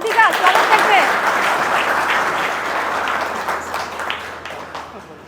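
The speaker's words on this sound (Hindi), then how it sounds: "आइए तालियों के साथ अपने साथी का स्वागत करते हैं।" An audience applauds to welcome a fellow performer onto a stage at a Raksha Bandhan gathering with soldiers. The clapping is loud and dense at first, then tapers gradually over about five seconds, with a faint voice and whistle-like tones early on.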